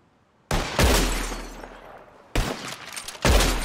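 Revolver shots in Red Dead Redemption 2 during a bottle-shooting contest: three loud, sharp cracks with glass shattering, each burst ringing out over about a second, alone with no talk.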